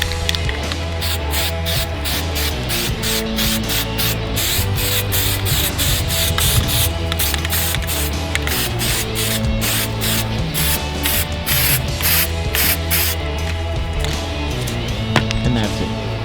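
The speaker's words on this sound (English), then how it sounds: "let's do glitter spray" Glitter spray paint is being sprayed onto a dragster in close, repeated hissing bursts that pulse in quick succession for the whole stretch, with brief gaps between passes.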